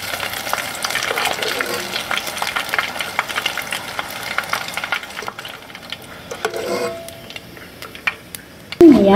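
Sitaw (string beans) deep frying in hot oil until crispy, a dense steady crackle and sizzle running throughout, easing off near the end before a sharp close clatter.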